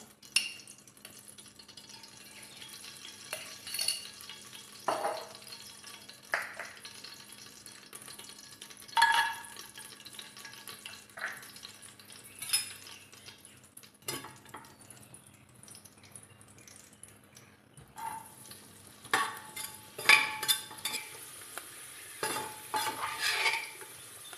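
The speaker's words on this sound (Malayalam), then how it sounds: "ആദ്യം ഈ കിസ്മിസ് ഒന്ന് വറുത്തെടുക്കാൻ പോവാണേ" Faint hissing sizzle of raisins frying in ghee and oil in a pan, with occasional soft stirring clinks and scrapes, quiet and close.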